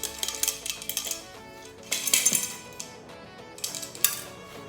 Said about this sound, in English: of chunks of metal. Can you hear it?